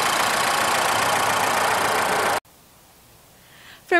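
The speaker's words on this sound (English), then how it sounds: "Under the hood is a 2-liter I-4 engine." A 2018 Ford Focus with a 2-liter inline-four engine runs with a broad, steady hiss-like roar for a couple of seconds before cutting abruptly to near silence, followed by a brief rising sound at the end.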